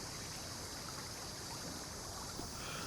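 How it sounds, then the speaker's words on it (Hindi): Water rushes steadily deep underground at a spring, a continuous hissing roar that is faint and distant, with no voices or breaks. "पानी की आवाज सुन रहा हूं।"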